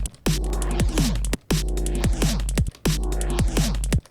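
Amp-distorted drum and bass synth bass with flanged notches: three loud, sustained gritty bass notes, each ending in a pitch drop and separated by brief gaps, with a swept, comb-filtered sheen.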